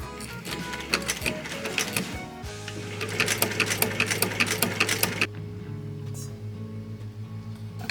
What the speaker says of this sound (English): I'm going to sew this right like this. And I'm going to sew this down right here